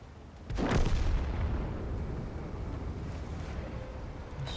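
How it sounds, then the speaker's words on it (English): An artillery shell slams into a tank in World of Tanks, landing as one loud, close, deep boom that rolls into a long low rumble. "I knew the artillery was gonna find me eventually."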